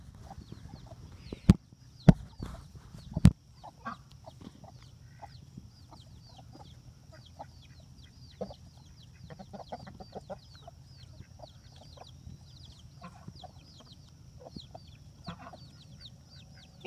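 Backyard chickens, with a duck nearby, cluck softly and intermittently while pecking at a watermelon, the clucks fairly close and steady over low outdoor rumble, with a few sharp knocks early on.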